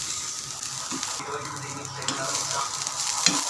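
Chopped onion frying in a pan for a drumstick-leaf stir-fry, a close, steady sizzle with stirring scrapes, alone.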